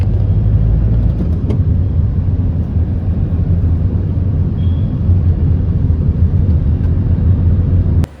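A taxi drives into Mumbai from the airport, heard from inside as a constant loud low road and engine rumble with no breaks.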